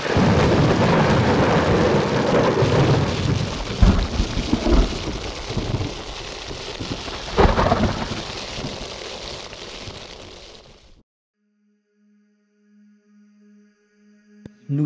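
A night thunderstorm in the mountains near Mont Perdu and Gavarnie pours heavy rain with loud rolling thunder cracks, then cuts off to near silence with faint tones.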